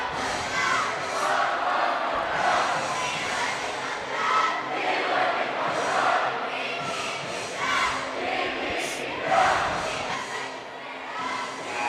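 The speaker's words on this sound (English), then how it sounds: "the Vikings cheerleaders getting the crowd to do the" A high school basketball crowd chants and cheers loudly in a gym, urged on by the Vikings cheerleaders during the Pleasant Grove vs Lone Peak game, a dense rhythmic roar of many voices that swells and dips throughout.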